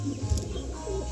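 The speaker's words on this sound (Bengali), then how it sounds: "এবার দেখাচ্ছি দাসু লাইনের পায়রা" Dasu line pigeons, including a double-pattied male, coo softly at home in a short, low, steady murmur with a slightly stronger burst near the start, no voices present.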